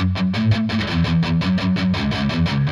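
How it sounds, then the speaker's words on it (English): Electric guitar playing the palm-muted main riff of a song, a quick, chugging pattern of short, evenly spaced muted notes, heard clearly and alone. "the main riff in the song that sounds like this"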